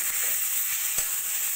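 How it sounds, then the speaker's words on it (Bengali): Masala with ginger garlic paste and green chillies frying in a pan, a steady bright sizzle with a faint single knock of a spoon, brief and unbroken. "এবার ভালো করে মশলাটা কষিয়ে নেব।"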